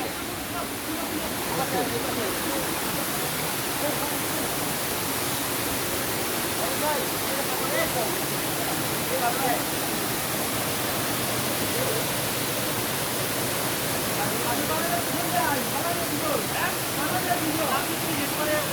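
Water pours steadily at a lake waterfall while rain falls, a dense, unbroken rushing roar that stays loud and even throughout.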